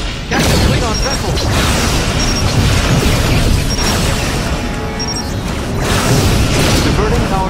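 Photon torpedoes fire in the Star Trek Legacy space combat game, heavy booming blasts rolling continuously with short bright tonal blips recurring every second or so, loud and close, with talk over them.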